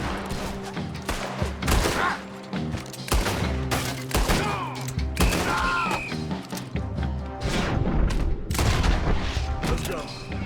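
Repeated gunfire in the Red Dead Redemption 2 video game, a fusillade of sharp cracking shots and impacts over about ten seconds, with voices talking between and under the bursts.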